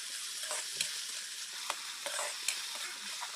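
Tomatoes salted in a hot pan sizzle and fry steadily, with soft scattered pops and occasional stirring scrapes, close and fairly quiet.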